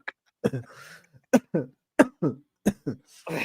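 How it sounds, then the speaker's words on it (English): A person coughs repeatedly at close range, a series of about eight sharp, separate barking coughs spaced at uneven intervals with rasping throat sounds between some of them. "Just cough it out."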